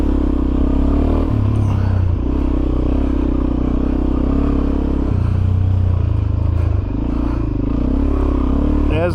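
A Suzuki DRZ400SM supermoto rides a sandy trail, its steady loud engine drone holding throughout with shifting pitch as the throttle changes, plus rattling and chassis clatter over the rough ground.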